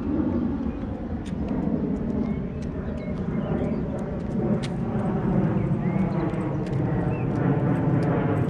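Steady drone of an airplane passing somewhere overhead in Hanau, Germany, a broad continuous rumble that stays even throughout beneath faint outdoor ambience with small clicks and knocks.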